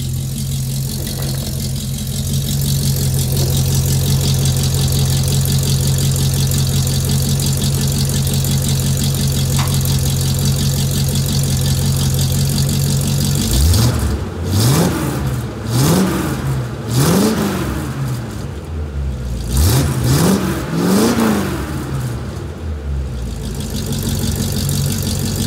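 A 1959 Chevrolet Apache resto-mod pickup with 2.5-inch aluminum exhaust and cherry bomb mufflers idles with a deep rumble, then is revved in a series of sharp throttle blips that rise and fall, close and loud.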